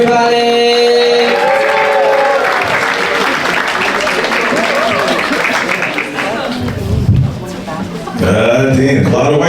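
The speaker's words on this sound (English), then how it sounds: "some applause right now for Antonio Clark, everybody." Audience at a stand-up comedy show clapping for a comedian as he is introduced, a loud sustained wash of applause and some cheering under music and a host's voice, fading briefly before swelling again.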